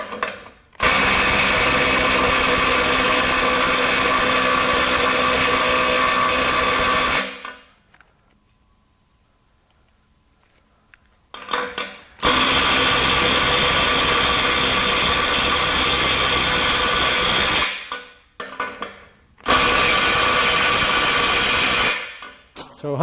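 A DeWalt DCF902B subcompact cordless impact driver runs in long loud bursts of rapid hammering clatter, separated by quiet pauses and a few short stop-start runs near the end, with no one speaking over it.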